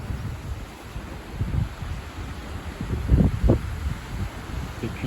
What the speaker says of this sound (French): de puissants bourrasques